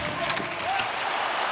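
Arena crowd in the hockey video game NHL 26 keeps up a steady, dense roar of cheering and scattered clapping during a tied game, filling the whole stretch without a break.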